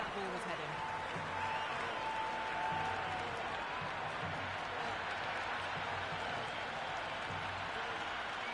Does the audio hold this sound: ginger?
no